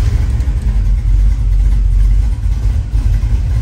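A Chevrolet 5.3 LS V8 runs after being cranked, a loud, close, steady low engine rumble with slight fluctuations, heard alone.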